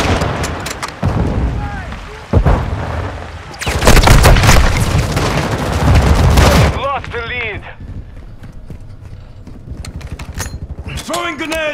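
A loud grenade explosion in Call of Duty erupts into a sustained roaring burst amid gunfire, then fades to scattered shots while people talk over the action.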